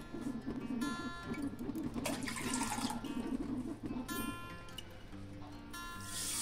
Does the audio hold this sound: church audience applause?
no